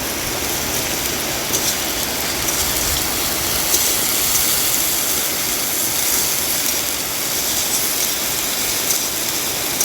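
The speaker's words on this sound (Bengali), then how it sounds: "বৃষ্টি তো থামছেই না গো, বৃষ্টি তো হয়েই যাচ্ছে" Steady outdoor rain in a village pours as an even, unbroken hiss of fairly close droplets, with no talk over it.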